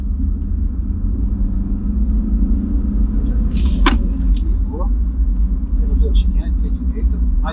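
A GWM Haval H6 GT SUV accelerates hard from 0 to 100 km/h, heard from inside as a loud, steady engine and road rumble that holds throughout, with a few brief higher-pitched sounds.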